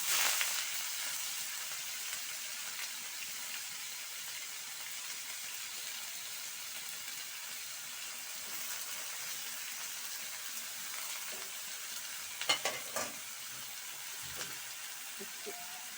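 Leafy greens (shak) frying in a pan, giving a steady, even sizzle with a crackling hiss throughout and a few brief clatters near the end.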